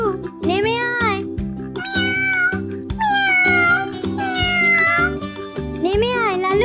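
A cat stuck up a tree meows repeatedly in loud, drawn-out, rising and falling cries, heard over steady background music.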